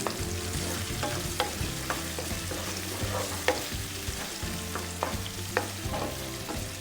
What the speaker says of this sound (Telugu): చిల్లీ చికెన్ కొద్దిగా కెచప్ కూడా వేసుకోవాలండి. అలానే ఒకసారి మిక్స్ చేసి